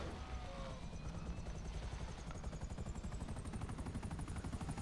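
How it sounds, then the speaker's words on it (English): A helicopter in GTA 5 keeps up a steady, rapid rotor thump with a whining turbine tone, continuous and fairly close, with no talking. "get the helicopter, get the helicopter, run the helicopter over."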